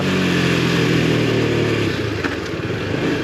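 A Husqvarna Svartpilen 250 motorcycle engine revs loudly up close, a rough, throbbing mid-pitched growl that holds steady, then eases off into a lower, looser idle burble.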